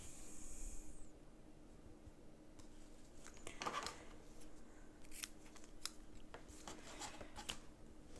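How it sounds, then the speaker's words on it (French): Scissors cut ribbon for a Christmas bauble craft, giving a few quiet, crisp snips spaced over several seconds against a soft background, with no talking. "Je vais découper à peu près 16 cm de ruban."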